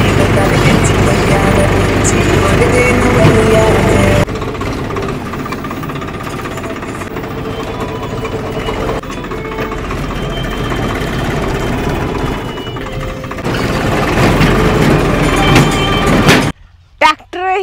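A tractor engine runs in a field during first-time cultivation, a loud rough chugging drone that drops back midway, then surges again before cutting off, with voices talking over it.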